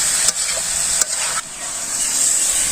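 Small fish frying in hot oil in a pan, a steady, close, loud hiss of sizzling throughout, broken by a few sharp scrapes and clicks as the fish are stirred, with no voices.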